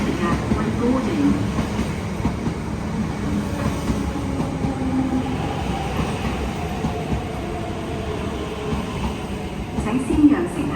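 An MTR East Rail Line R-train rolls into the platform between Kowloon Tong and Tai Wai, giving a continuous rumble and clatter of wheels while a voice speaks over it.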